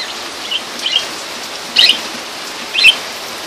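Young pet lovebirds kept in a small two-tier cage at home give a few brief, high chirps at scattered intervals over a faint, steady hiss.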